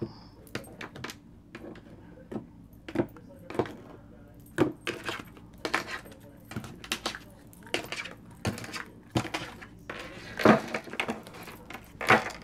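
Tarot cards being cut and shuffled by hand: a long series of crisp, close slaps and riffling snaps, irregular and fairly loud, with no voice.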